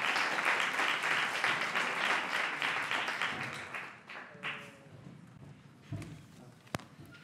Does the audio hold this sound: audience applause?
yes